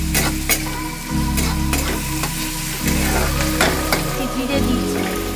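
Garlic and onion sizzle in a pan for paneer curry while a spoon stirs them, with steady close frying crackle and repeated sharp scraping strokes against the pan.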